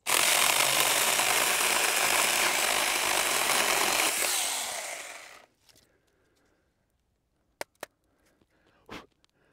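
Saker mini electric chainsaw cutting through a piece of hardwood, a loud, close, steady buzzing cut lasting about five seconds that ends abruptly, followed by near silence and a few sharp clicks and knocks.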